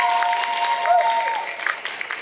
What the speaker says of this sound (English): So round of applause, seriously.